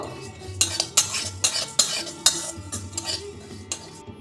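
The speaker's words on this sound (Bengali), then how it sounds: "এই মশলাটা আমি একটু ভেজে নেব" Coriander and poppy seed spice mix dry-roasts in a pan, stirred with a metal spoon that clinks and scrapes against the pan in quick irregular knocks, close and fairly loud with no voices.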